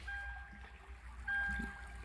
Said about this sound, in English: make sure that you guys could hear the running water